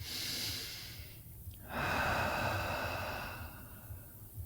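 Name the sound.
audible exhale through the mouth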